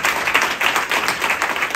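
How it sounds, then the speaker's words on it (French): Strong applause from an audience at a French round-table panel on inclusive business as a guest joins the stage, a dense continuous wash of clapping, loud and close. "Et vous pouvez l'applaudir très fort."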